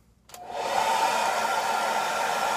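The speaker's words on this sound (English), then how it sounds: "I'm going to put on a cool blow dryer and just let this dry about 30 seconds." A blow dryer on its cool setting switches on abruptly and then runs as a steady, loud, even whoosh with no talking.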